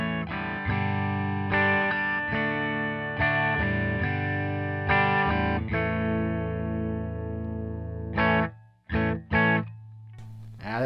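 Epiphone Gold Glory electric guitar through the bridge pickup into a Marshall amp's clean channel, strummed chords ringing in a steady rhythm and then a few short stabbed chords near the end, loud and close, with no talking.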